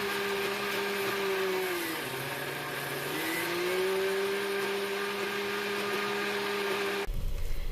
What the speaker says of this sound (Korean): 믹서기에 갈 때는 물을 많이 넣어야지 잘 갈아진답니다